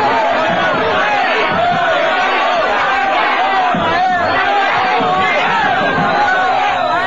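Football fans in a stadium roar and chant continuously as players celebrate a first-stage championship win with them, a loud, dense crowd din with a commentator's voice running over it throughout.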